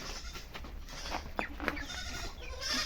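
A goat being brought home gives a couple of short, wavering bleats close by over a steady outdoor background.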